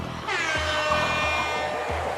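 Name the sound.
air horn can blast, Project Zomboid video game mod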